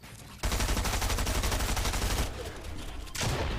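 Rapid automatic gunfire in an online shooter game, a dense loud burst of repeated shots that eases briefly then resumes, heard alone with no talk over it.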